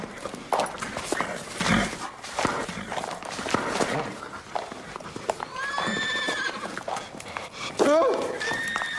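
A horse nearby whinnies and snorts amid hoof clops and shuffling, with a sharp neigh near the end, while people talk over the commotion in a comedic film scene.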